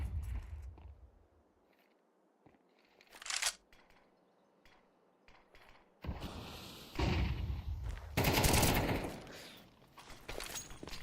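Gunfire in an esports video game match between Young Ninjas and LilMix: quiet stretches break into a short burst, then heavier rapid volleys and blasts crowd the second half.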